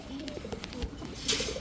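Soft, low pigeon coos from two female Choco Racer pigeons repeat in a loose rhythm close by, with a brief rustle or flutter near the end.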